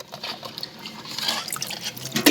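Small pieces of goat head being washed under running water in a sink, with steady splashing and dripping throughout and a louder splash near the end.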